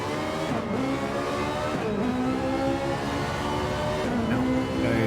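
Race car in the Ferrari E Challenge racing game pulls away from a pit stop, its engine droning and climbing through repeated rising gear sweeps at steady loud volume, with faint commentary underneath.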